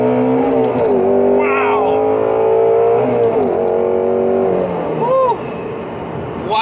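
Shelby GT350 with a naturally aspirated engine and an 8,000 RPM redline, heard loud from inside as it accelerates hard, pitch climbing through the revs with gear shifts between pulls, while a voice exclaims over it.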